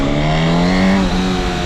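Loud, close engine note from a Honda CB1000 Hornet SP 1000cc motorcycle revving hard, with a strong steady harmonic drone that rises slightly in pitch and holds for the whole short stretch.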